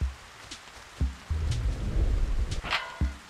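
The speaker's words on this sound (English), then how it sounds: "I wonder if anything special happens during a thunderstorm." Thunderstorm in the video game Animal Crossing, steady rain hiss with deep rumbles of thunder swelling and fading across a few seconds.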